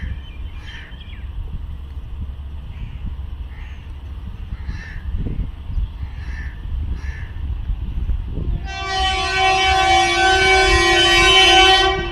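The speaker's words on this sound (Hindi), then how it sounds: "सिग्नल डाउन हुआ है 134 डाउन कोहाट एक्सप्रेस का" Kohat Express train on its way into Nur Junction, Pakistan, with scattered crow caws over a low rumble, then a loud sustained train horn blaring near the end as the locomotive approaches.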